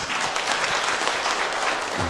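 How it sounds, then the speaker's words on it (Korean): A church congregation claps together in steady, dense applause at a Korean anniversary Sunday service honoring newly ordained deacons, loud and sustained with no speech over it. "우리 박수로 축하하겠습니다."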